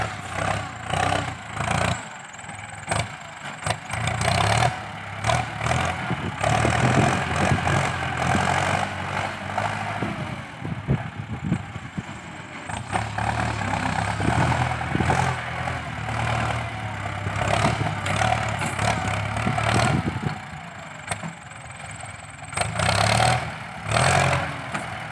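A heavy Ford 6640 tractor engine rumbles and labors nearby pushing soil to level a field, its pitch rising and falling as it strains under load, with no talking.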